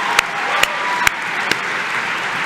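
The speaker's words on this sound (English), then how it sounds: "Let's give all of our graduates a massive round of applause" Steady applause from a crowd at a Melbourne Polytechnic graduation ceremony, with a few sharper claps standing out above the continuous clapping.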